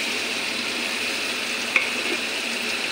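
Spice paste is fried and stirred in a pan for a dish of Malabar spinach, sweet pumpkin and shrimp. It gives a soft, steady sizzle with a faint scrape from the spoon and no voices.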